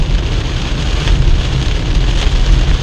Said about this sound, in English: I hope you all enjoy the rain. Look how dark it is. Big thunderstorm rolling through.